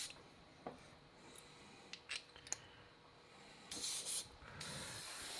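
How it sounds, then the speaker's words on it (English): An Iwata Micron airbrush loaded with straight isopropyl alcohol does blowouts, making faint, close hissing air bursts with scattered small clicks. The loudest spray comes near the end. "You could just blow out the centers with isopropyl."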